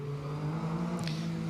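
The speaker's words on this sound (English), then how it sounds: "It has a fantastic sound from that engine as well. A real V6 racing engine." Metro 6R4 rally car with a V6 racing engine at the Goodwood Festival of Speed, a steady droning engine note holding close and prominent for a moment, with a brief higher rasp near the end.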